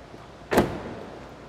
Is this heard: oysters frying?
no